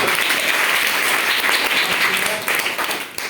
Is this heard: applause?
yes